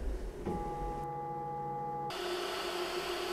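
QiDi Tech X-Plus 3D printer running, a steady mechanical whir with sustained tonal stepper-motor whines shifting in pitch, moderately loud and close with no talk.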